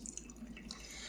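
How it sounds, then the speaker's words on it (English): Beer pouring into a glass from a bottle fitted with a cap, a faint, steady liquid trickle with small drips, quiet and continuous throughout. "we're going to pour a little bit"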